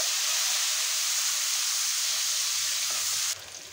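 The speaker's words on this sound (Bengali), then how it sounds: "তো পেঁয়াজ কুচিটা দেওয়ার পরে আমি খুব ভালোভাবে একটু ভেজে নেব।" Chopped onion and bay leaves sizzle steadily in hot oil, a loud, dense frying hiss that runs unbroken and then drops to a quieter sizzle near the end.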